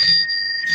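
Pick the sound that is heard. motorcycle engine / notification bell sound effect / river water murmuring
notification bell sound effect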